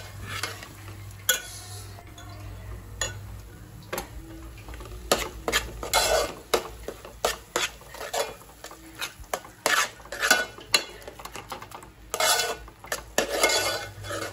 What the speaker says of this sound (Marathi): आणि मस्त फोडणी छान हलवून घ्यायची।